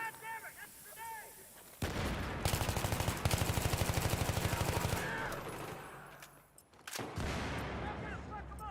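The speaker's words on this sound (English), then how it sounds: "God damn it, that's a grenade!" Grenade blast and heavy gunfire in the Battlefield 3 video game on PS3, a loud sustained roar of explosions and rapid shots, with shouted voices in the game.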